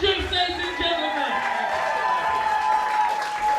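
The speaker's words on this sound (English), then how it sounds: "keep those hands clapping for Tony Hendricks, ladies and gentlemen" Comedy club audience clapping for a comedian, a short burst of crowd applause mixed with loud voices and chatter that fades as a sustained tone carries on.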